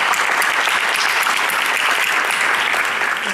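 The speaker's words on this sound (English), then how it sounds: "how about a round of applause for our panelists?" Warm, full applause from a conference audience at Navy Pier for a panel on access to capital, a thick continuous wash of many hands clapping at even loudness.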